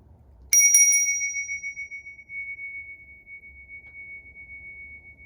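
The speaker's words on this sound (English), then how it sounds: "Yeah, it's a nice bell." A good-quality bell, said to contain gold, is struck once near the start and rings on with a clear, sustained tone that slowly fades over several seconds, alone with no talk.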